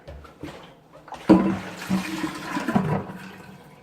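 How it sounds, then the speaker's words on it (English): Water pours and splashes into a container for keeping a medicinal leech, starting with a sudden gush then continuing as a bubbling, rushing flow for a couple of seconds. "And I'm just gonna add water."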